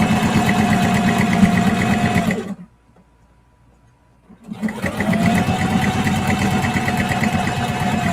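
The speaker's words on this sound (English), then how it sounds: "And keep sewing." Loud, close sewing machine running fast while stitching a clear vinyl project bag, a dense steady whir that stops for about two seconds, then starts again and carries on.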